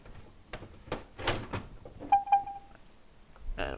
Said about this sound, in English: And then you lift the door up.